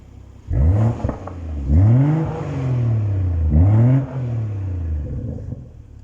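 A BMW M140i with a modified exhaust revs in Eco Pro mode, giving three separate throttle blips that swell into a deep, rumbling roar and then settle back to a low idle burble.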